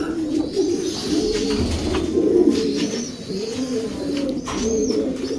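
Stitch Lupit pigeon hen, an eight-month-old basal bird just out of molt, cooing in repeated low, throaty phrases close by, with no talk.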